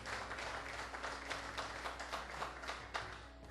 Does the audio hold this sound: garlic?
no